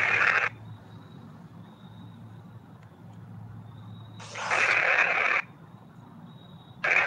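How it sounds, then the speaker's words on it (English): Loud bursts of hissing static from a white-noise device used during a ghost hunt in a 1700s church, three short blasts separated by quieter stretches of low hum. "I'll turn off the white noise."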